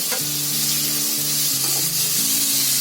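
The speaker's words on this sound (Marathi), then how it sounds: "त्याच्यामध्ये टोमॅटो टाकते आणि आलं लसूणची पेस्ट टाकते" Tomato and ginger-garlic paste sizzle with onion and radish in a pan, a steady loud frying hiss with light stirring and a faint tonal hum underneath, no voices.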